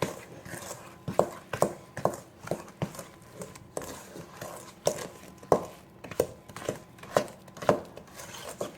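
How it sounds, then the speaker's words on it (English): Coffee cake batter is mixed by hand in a bowl, giving a steady, rhythmic series of soft thumps and scrapes that repeat about twice a second, close and moderately loud, with no voices. "I'm going to mix it for about a minute"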